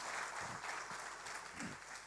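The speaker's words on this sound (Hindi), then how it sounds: "एक बार फिर से जोरदार तालियां मैं चाहूंगी आप सभी की तरफ से।" An audience at a literary festival event claps steadily for the whole stretch, a dense, even patter of many hands in a hall that neither swells nor fades, with no voices over it.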